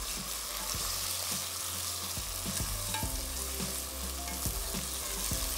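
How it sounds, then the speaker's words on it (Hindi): Boneless chicken cubes fry in a hot pan while a spoon mixes them, giving a steady loud sizzle broken by repeated scraping and knocking strokes of the spoon against the metal. "ये चिकन हमने शामिल कर देनी है यहाँ पे। और अब इसको खूब अच्छी तरीके से हमने मिक्स कर लेना है।"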